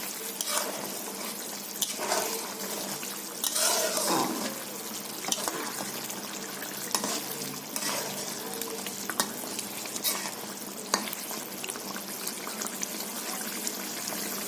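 Fried ridge gourd pieces dropped into a boiling fish curry: steady bubbling sizzle with splashes, stirring scrapes and occasional clatters of the spoon, close and continuous, with no speech.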